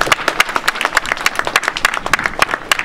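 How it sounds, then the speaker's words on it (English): Scattered audience applause fills a teach-in room, a small crowd clapping in steady, uneven bursts at moderate volume, with no voices over it. "So how about a big round of applause for them,"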